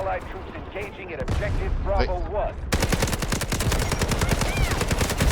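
Rapid SMG-45 submachine gun bursts in the Delta Force video game, a dense, loud string of shots that starts after a stretch of voices and in-game sounds, then fires nearly continuously to the end.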